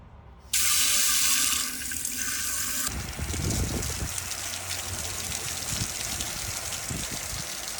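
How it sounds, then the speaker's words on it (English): Water pours loudly from a tap into the hopper of a 1929 Hercules 1.5 hp hit-and-miss engine. A steady rushing splash drops to a lower, bubbling fill partway through and continues close up, with no talk. "Now I'm gonna see if this hopper will hold water"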